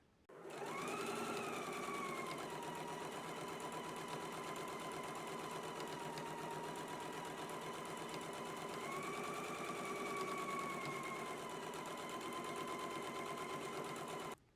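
A sewing machine runs at a steady, fast whirring pace while top stitching an apron, close and continuous with a slight shift in pitch partway through, and no voices.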